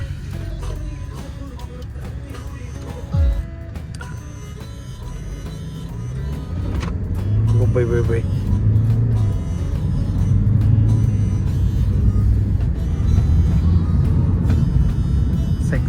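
A car engine idles and then runs steadily with a low rumble that grows louder partway through, while people talk nearby.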